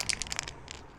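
Rapid metallic rattling of a shaken aerosol paint can used for camouflage painting a 1/6 scale Armortek Hetzer Jagdpanzer 38 model, a quick burst of about eight clacks that fades out.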